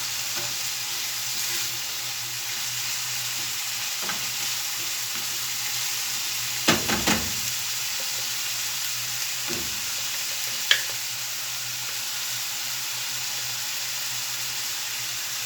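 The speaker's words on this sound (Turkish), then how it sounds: "kıymamı yine kavursun" Minced meat fries in a pan for stuffed köfte, giving a steady, loud sizzle throughout, broken by a few clinks and scrapes from stirring.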